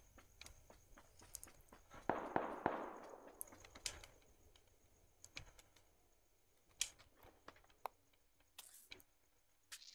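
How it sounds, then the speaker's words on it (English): Gunshots in PUBG on Stadia pop as sparse, sharp single cracks, fairly faint and distant, with a louder cluster early on, over quiet rustling and footsteps. "Yeah, somebody else shooting at me."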